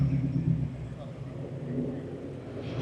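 Several Lexus IS F cars roll into a Cars and Coffee meet, a steady low engine rumble with a faint rise near the end, heard from close by with people talking in the background.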